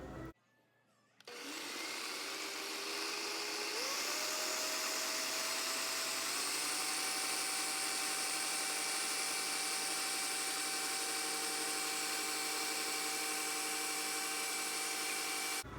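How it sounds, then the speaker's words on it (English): A food processor on its puree setting blends avocado with a chocolate mixture, a loud, steady motor whir that starts after a brief quiet moment and climbs slightly in pitch as it runs continuously. "put it on puree, and slowly puree the chocolate mixture into the food processor"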